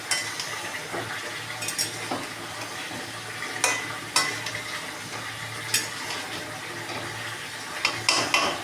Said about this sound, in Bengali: হলুদ দিয়ে দেব, এটাকে এখন আমি কষিয়ে নেব